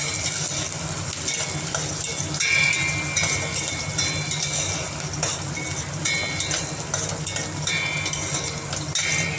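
Onion and garlic fry in oil in a pan for a spicy crab curry tempering, giving a steady crackling sizzle with occasional scrapes and clinks of a stirring utensil, close and continuous without talk.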